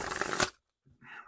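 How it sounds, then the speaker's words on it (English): A new, still-stiff tarot deck being shuffled, a dense burst of riffling cards that cuts off sharply, then a quiet pause and a few softer card taps and rustles close by. "Cards are still quite stiff because I haven't shuffled it much."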